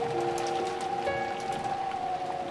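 Steady rain from the visual novel game Umineko When They Cry, a continuous soft patter with sustained tonal music layered over it at an even level throughout.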